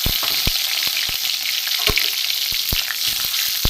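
Panch phoron spices crackle and fry in hot oil in a pan for a chicken dish, a constant close sizzle punctuated by sharp, repeated popping ticks at irregular intervals.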